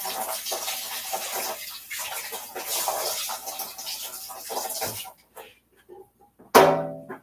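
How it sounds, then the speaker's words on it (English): Water running from a tap to rinse ketchup out of a top, a steady close splashing rush that stops partway, followed by a brief louder gush, with a voice talking over it. "My top's got ketchup on it, so I'm going to rinse that out."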